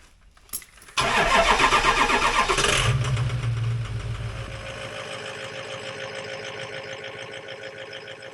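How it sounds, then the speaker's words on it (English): An off-road air compressor for tire inflation clicks, then starts abruptly into a loud, rapid mechanical chatter that drops after a couple of seconds to a steadier, quieter pulsing drone with a faint whine, close by and without talking. "we're going to run the compressor up till it gets to 135 psi and shuts off"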